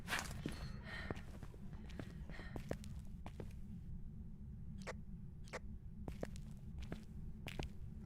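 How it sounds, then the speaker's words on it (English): Ghost footsteps in the horror video game Phasmophobia, a sparse run of short, sharp, faint taps at uneven intervals over a low, constant rumble. "Listen to the footstep noise."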